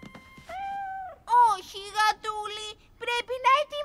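A cat meows several times in a row, clear and close, with high drawn-out cries that rise and fall, in a quiet setting with no other sounds.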